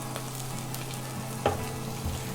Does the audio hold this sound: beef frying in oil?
yes